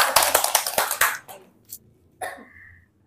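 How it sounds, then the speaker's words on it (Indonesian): A short burst of hand clapping from a small group at a teacher training session, about a second of rapid claps that stops abruptly, followed by a few scattered taps and a cough in a quiet room. "tepuk tangan"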